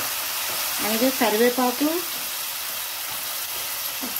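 Prawns with tomato and curry leaves fry in a pan, giving a steady close sizzle that carries on under a voice talking briefly in the middle.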